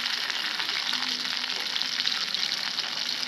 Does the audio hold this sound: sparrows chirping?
no